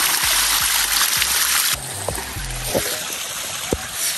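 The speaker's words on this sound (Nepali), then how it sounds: "अनि अब म चाहिँ मेरो हात धुन्छु।" Water splashing and trickling over hands at an outdoor spot in the forest, a steady broadband rush that softens partway through, with a few brief low splatters and drips close by.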